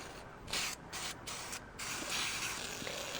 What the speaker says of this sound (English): I'm going to give it a spray now